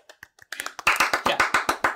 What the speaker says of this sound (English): All of us clap.